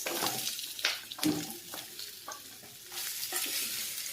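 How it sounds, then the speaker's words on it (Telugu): Pumpkin pieces go into hot oil with asafoetida and curry leaves, giving a quiet, steady sizzle broken by soft spoon scrapes and clicks as the pan is stirred. "ఒక అర స్పూన్ ఇంగువ వేసుకుని చక్కగా వేయించేసి ఒక్క నిమిషం పాటు ఈ ముక్కలు వేసేసుకోండి గుమ్మడికాయ ముక్కలు"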